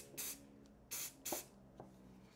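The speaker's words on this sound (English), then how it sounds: "the last thing I do is I give it a little shot of Star Bond Activator." Star Bond activator is sprayed onto glued pen blanks in three short, close hissing bursts, followed by a fainter fourth puff, in a quiet room.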